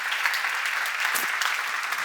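A church congregation applauds during a seminar, a dense, steady wash of many hands clapping together, close and full, continuing evenly without a break.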